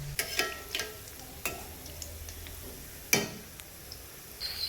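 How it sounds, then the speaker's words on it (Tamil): Mango gulab jamun dumplings fry slowly in oil in a pan, giving a soft, steady sizzle. Occasional brief clicks and stirring knocks break through, and no one speaks. "மெதுவாக தீயில் வச்சு பொன்னரமாக வறுத்து எடுக்கணும்"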